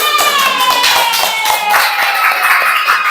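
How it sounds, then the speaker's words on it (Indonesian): Students in a classroom applaud a group, a close burst of many hands clapping in dense, irregular rapid claps, with children's voices mixed in. "kita beri tepuk tangan dulu untuk kelompok 1"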